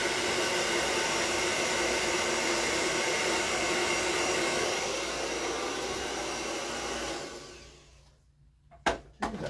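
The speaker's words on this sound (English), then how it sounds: "just got my blow dryer right here. So just going to blow dry this pretty quickly here." A handheld blow dryer runs loud and steady for about seven seconds while drying a fresh painting of a pair of giraffes, then shuts off, leaving quiet with a couple of small clicks and knocks.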